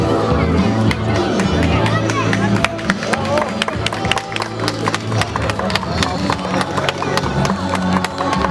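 Audience applause at a dog show breaks out loud and close, a dense crowd clapping that carries through the whole stretch with murmuring and a voice on a loudspeaker mixed in.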